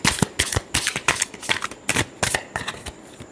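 Tarot cards are shuffled by hand in a rapid run of crisp riffling bursts, close and loud, about a dozen quick pulses with no voice.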